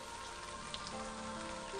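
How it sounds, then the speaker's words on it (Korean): Steady rain falls at Sajaam, a temple hermitage on Odaesan, a soft continuous patter with a few louder drips standing out, no voices. "사자암의 신비로운 풍경을 바라보며 빗소리와 더불어 잠시 망중한을 즐겨봤습니다"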